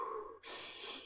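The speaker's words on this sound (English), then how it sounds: "I do 10 deep breaths where I breathe into my belly and then into my lungs" Deep belly breath in a morning breathing exercise: one close, forceful inhalation that breaks into a louder, airy rush of exhaled breath, heard alone.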